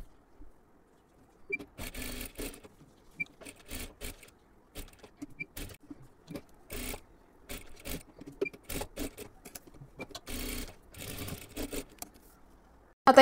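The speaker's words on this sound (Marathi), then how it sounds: "पूर्ण डबल शिलाई मारून घ्यायची आहे." Sewing machine double-stitching along the neckline of a blouse, running in short bursts of rapid mechanical stitching separated by pauses, close and fairly quiet.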